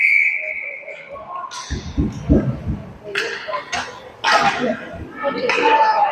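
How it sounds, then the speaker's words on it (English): A sharp referee's whistle blows briefly in a noisy arena at a hockey game, with crowd noise and thuds around it, then a commentator's voice talks over the din. "We'll have another whistle."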